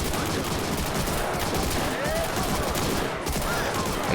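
Dense, continuous gunfire exchange from the Army Men of War Legends battle game, with rifle and machine-gun bursts rattling steadily, loud and close throughout without a pause.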